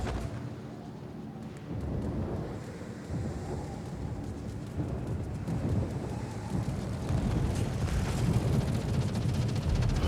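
Anti-aircraft fire from the ship Holland against attacking planes in World of Warships, a dense continuous rumble of booming bursts that builds slightly in loudness, with no talking.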